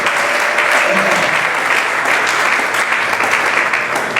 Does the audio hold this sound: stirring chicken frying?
no